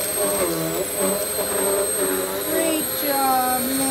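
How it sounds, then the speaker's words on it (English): A child's upright household vacuum cleaner whines steadily and loudly at close range, its pitch wavering as the machine is moved about, with voices talking over it. "Pick the handle up so that the vacuum part goes down."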